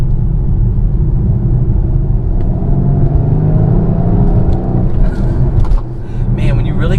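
A Mercedes-Benz GLC 63 Coupe engine drones loudly in Sport Plus mode as it drives, a steady deep rumble from inside the cabin, with a few brief clicks and a rising note near the end.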